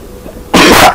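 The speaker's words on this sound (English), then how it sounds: "Sorry for the sneezing." A person sneezes once during a Kingdom Hearts Re:Chain of Memories game session, a sudden loud burst breaking out of near-quiet.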